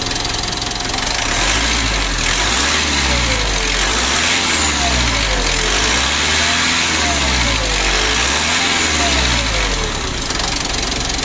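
A loud 2012 Mitsubishi Pajero Sport Dakar turbo engine revs up and down in slow repeated swells, the rising whine of the turbo riding over a heavy rumbling idle.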